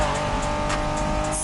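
Honda NSX, a 1990s sports car, driving in The Crew Motorfest racing game, with a steady loud engine drone and faint tire hiss running continuously and close throughout.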